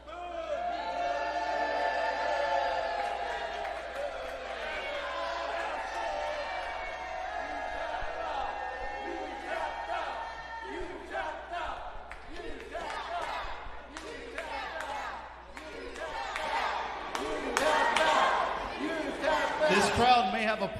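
A professional wrestling arena crowd roars and chants steadily, loud and sustained, swelling toward the end with shouts and cheers.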